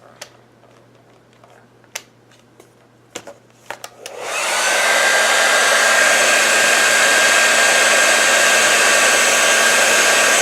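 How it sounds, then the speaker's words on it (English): A hair dryer blow-drying hair switches on after a few faint clicks and taps, then runs as a loud, steady, close whooshing roar for the rest of the clip, with no talk. "you're going to blow dry that for a couple of seconds"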